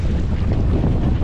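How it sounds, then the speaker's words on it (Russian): Strong wind by the sea at Marmaris, Turkey, roaring continuously and loudly against the microphone with the rush of rough surf beneath, no voices. "О, какой ветер."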